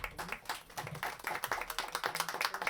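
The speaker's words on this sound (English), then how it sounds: "can have a big round of applause for Ellen" A seated audience at an urban development community-building event claps in a quiet, steady patter of many hands, moderately distant and soft, continuing evenly for the whole stretch.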